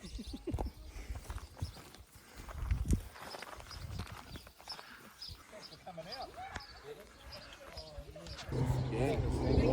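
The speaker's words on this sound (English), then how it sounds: "Look at all these horses." Hooves clip-clopping at a slow walking pace, several horses moving nearby, with people talking over the steady clatter.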